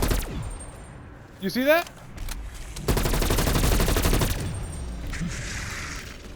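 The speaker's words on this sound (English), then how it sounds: "Look, look, look where I'm shooting." Rapid automatic gunfire from Call of Duty's Die Maschine zombies mode, a sustained loud burst of shots in the middle with a few earlier shots, with players talking over the game audio.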